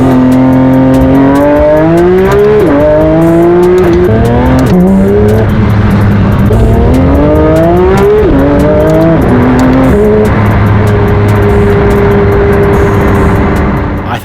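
A rebuilt 2024 Porsche GT3RS accelerates hard on a drive, its engine screaming loud and close through rising revs with quick gear changes, then holding a high steady howl.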